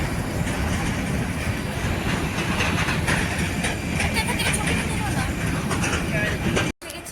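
Train running on rails on the way to Belfast, Northern Ireland, a steady dense rumble with faint rattling carried on throughout, briefly cutting out near the end.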